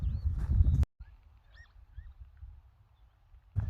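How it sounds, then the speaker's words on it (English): Birds outdoors give odd, radio-like, walkie-talkie-like calls, faint short chirps and squawks over low rumbling noise, framed by louder bursts of handling sound. "we heard these weird noises, sound like radios, like walkie-talkies"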